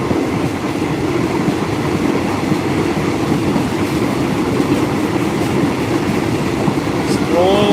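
A train bound for Bangkok in Thailand rolls along the tracks, heard from inside as a loud, continuous rumble with rhythmic wheel clatter and a brief squeal toward the end.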